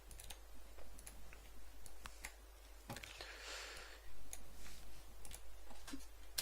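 Keystrokes on a computer keyboard while typing into the Notepad++ text editor, a faint, irregular patter of light clicks with short pauses and no voices.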